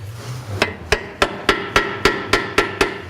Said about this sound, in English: you give it a light tap from one side